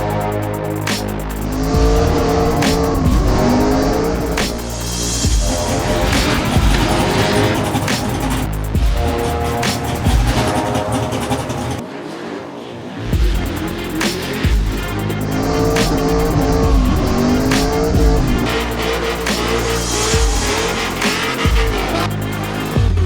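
A practice race car's engine revs and roars repeatedly, rising and falling with gear changes and occasional tire squeal, loud and close, with a short lull midway.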